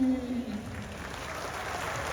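Audience applause at a Bengaluru Kambala mimicry comedy performance, a steady wash of clapping filling the whole moment with a faint voice murmuring underneath.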